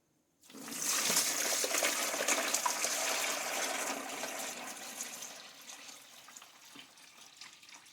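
Water gushes steadily from a tap into a pot being filled, a fairly quiet, continuous rush that starts abruptly and slowly eases, with no voices.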